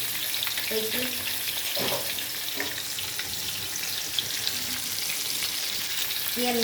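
Fish frying in plenty of hot oil, a dense, continuous crackling sizzle heard close up, with a few brief faint tonal sounds in the background and no talking.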